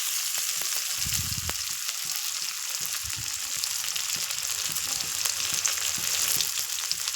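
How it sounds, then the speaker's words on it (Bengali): Cumin seeds, green chili and chopped onion fry in hot oil in a wok, giving a steady bright sizzle throughout, with a few soft stirring knocks near the start. "তারপরে দিয়ে দিলাম কাঁচা লঙ্কা, পেঁয়াজ কুচি দিয়ে একটু ভালো করে ভাজা ভাজা হয়ে যাবে।"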